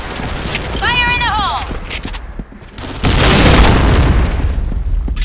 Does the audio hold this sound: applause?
no